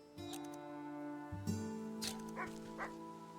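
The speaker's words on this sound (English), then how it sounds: "Oh, the dog, the dog." A dog in the video game Wytchwood gives a few soft yips and barks near the end, heard faintly under steady game music.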